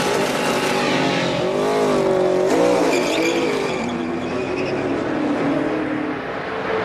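A NASCAR stock car pulls away from a pit stop at the 2014 Geico 500, its engine roaring loud and close with a rising, wavering pitch and a brief tire squeal before settling into a sustained drone.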